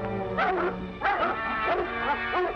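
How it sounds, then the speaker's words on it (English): Several dogs bark and whimper in repeated bursts of yelps and whines, fairly close and loud, with no talking over them. "Something stirred up the dogs."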